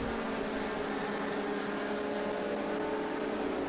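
Trans Am and SVRA race cars circle the Circuit of the Americas, their engines merging into a steady, continuous roar with a faint whine that holds level throughout, heard from some distance without any voices.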